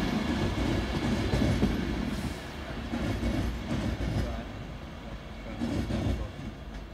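A train rumbles past at Crewe Heritage Centre, a broad rolling roar with faint rhythmic wheel clatter that rises and falls as the carriages go by at a distance.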